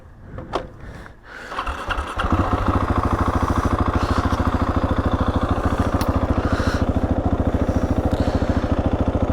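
A motorcycle engine fires up after a couple of brief sounds, then settles into a steady, loud rhythmic idle that runs evenly for the rest of the stretch, close by, with no talking.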